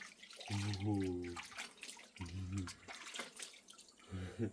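Water from a tap or shower runs while a husky is washed, a soft splashing flow under the frequent talk of a woman and a child.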